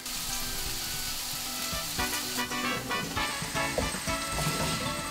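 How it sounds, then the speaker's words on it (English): Onions, peppers and garlic fry in a hot pan with a steady, dense sizzle and crackle, constant and close, with scattered sharper pops. "Add the onions and the peppers to the pan. And also the garlic."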